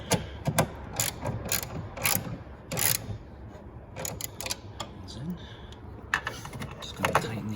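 A ratchet wrench clicks in short bursts while tightening 11 mm bolts on the quarter window of a 2005-2009 Ford Mustang convertible. Bursts of quick metallic ratcheting are separated by pauses, with faint background noise and occasional speech.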